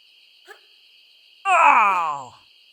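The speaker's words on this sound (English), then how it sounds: "I can hear crickets, but I can't see any." Steady high-pitched cricket drone runs continuously through the High Security Compound level of Tomb Raider 3, broken midway by a loud, falling moan-like groan and a brief soft blip earlier.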